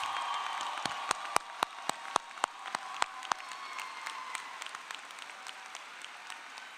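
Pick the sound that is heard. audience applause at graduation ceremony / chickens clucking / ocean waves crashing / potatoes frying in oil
audience applause at graduation ceremony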